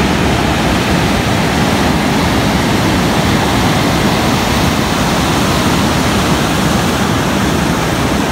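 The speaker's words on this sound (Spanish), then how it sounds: "Usualmente tiene estas olas que vienen una tras de otra." Broadband ocean surf rolls steadily onto the beach at Chorrillos on Lima's Costa Verde, waves arriving one after another in a loud, continuous wash with no voices.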